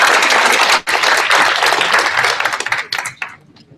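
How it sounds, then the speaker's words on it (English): Audience applause for a conference panel on city preparedness: loud, dense clapping that holds steady, breaks briefly, resumes, then thins into a few scattered claps as it fades out. "Thank you very much for the panelists, and a big applause for them."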